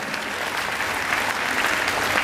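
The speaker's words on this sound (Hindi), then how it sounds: "तालियां कमजोर है आपकी यार।" Steady applause from a comedy night audience, a dense wash of clapping that holds at an even level throughout.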